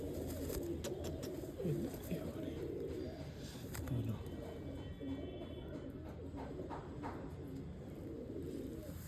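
Sialkoti pigeons coo steadily in a loft, the low throaty calls overlapping in a dense continuous chorus with some faint chirps and background noise.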